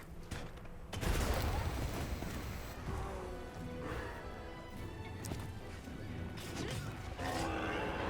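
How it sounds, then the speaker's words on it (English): A barrel bomb explodes in Monster Hunter Wilds, a sudden loud blast around the one-second mark that rolls into sustained rumbling, crashing and mechanical clatter of in-game action, with dense gameplay noise continuing throughout. "I think we blow up the barrel bomb and it lags the whole fucking thing"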